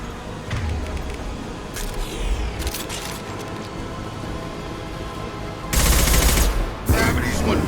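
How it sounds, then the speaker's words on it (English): A concussive shot fires in Mass Effect 2 amid ongoing combat noise. Steady rattling gunfire runs throughout, then a loud, dense burst of impact hits near the end. "Firing concussive shot!"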